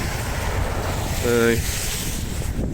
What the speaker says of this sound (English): I just noticed how windy it is.